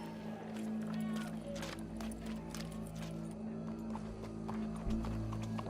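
Horse hooves clip-clop at a steady trot in Red Dead Redemption 2 amid a constant electronic hum and faint background noises, with occasional voices mixed in.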